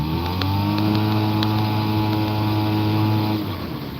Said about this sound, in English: The engine works, the boat floats, there's no leaks.